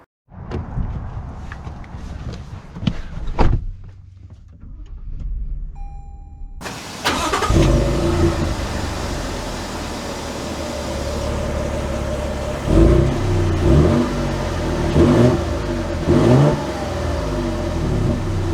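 A 2022 Toyota Tundra TRD Sport pickup, heard from inside the cab, gives a few thumps and clicks before the engine cranks and fires, then a steady running drone that swells with revving as it pulls away.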